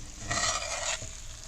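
Cabbage, potatoes, onions and bacon fry in lard and Crisco in a large preheated skillet, a soft sizzle joined by a brief burst of stirring and scraping that fades back to a quiet hiss.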